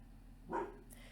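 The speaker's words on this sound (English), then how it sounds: "Sorry if you hear my dog barking." A single faint, short dog bark in the distance, muffled against quiet background noise.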